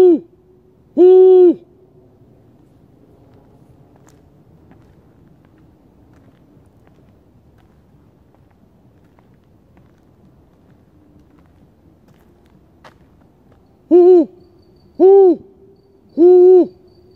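An owl hoots at night outdoors, one hoot near the start and then three spaced hoots close together near the end, loud and clear over a faint steady background hum of insects.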